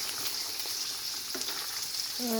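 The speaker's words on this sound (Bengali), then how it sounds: "এই যে পটল দিলাইছি আর আলু একটু পরে দিব" Pointed gourd frying in a pan alongside rui fish, a steady low sizzle with occasional scraping stirs and a brief tonal clink near the end, fairly quiet and without voices.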